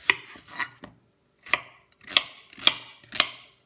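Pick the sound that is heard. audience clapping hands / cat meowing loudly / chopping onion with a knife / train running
chopping onion with a knife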